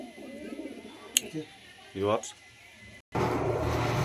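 Andhra line pigeons give a couple of short, low cooing calls amid background murmur and noise, with a burst of broadband noise near the end.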